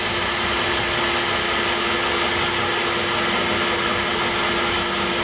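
A power drill bores holes in an aluminum trailer for mounting a MaxxHaul motorcycle wheel chock, running under light pressure in one loud, unbroken whine from start to end.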